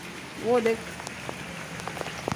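Rain falls outdoors as a soft, steady patter with scattered individual drops ticking close by, while a voice briefly speaks over it.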